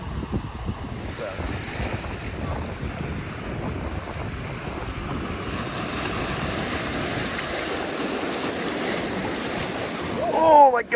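Surf washes onto a beach on Hawaii's Big Island, a continuous wash of waves under gusty wind noise, swelling near the end as a voice briefly cuts in.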